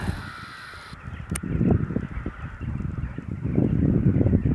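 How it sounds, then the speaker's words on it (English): Many crows caw over and over from the trees, a loud overlapping chorus from a large flock close by, continuing steadily throughout. "I think they are either crows or ravens or something like that, but there are lots of them."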